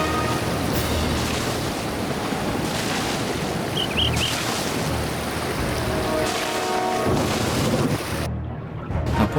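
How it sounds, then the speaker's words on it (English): A steady roar of storm wind and rain in the Lord of the Rings Online video game, set on a stormy bay, with dense broadband rushing noise throughout and a sudden drop-off near the end. "I don't like the sound of that storm."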